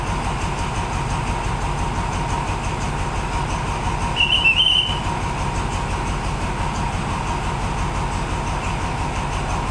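An Alstom diesel locomotive with an MTU engine, number 4132, pulls onto the first platform at Thonburi station with a steady low engine rumble and rail noise. A short squeal or whistle rises midway.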